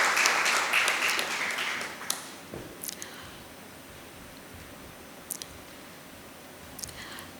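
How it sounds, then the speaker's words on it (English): A burst of crowd applause at an annual general meeting that fades out after a couple of seconds, followed by quiet room noise with a few scattered claps and clicks. "A huge round of applause for our esteemed guests."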